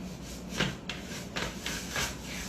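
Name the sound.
rubbing an object to build static electric charge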